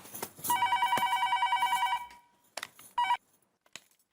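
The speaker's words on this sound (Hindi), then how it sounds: "फोन आया।" A landline telephone rings in a domestic sitcom scene, a steady electronic trill in two long bursts followed by a shorter ring, loud and close, with a few light knocks and no talking.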